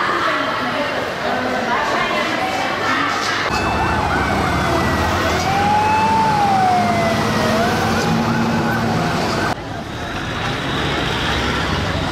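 Siren from a fire truck sounding during a municipal rescue staff training exercise, a rising and falling wail held across most of the stretch over busy background noise and voices.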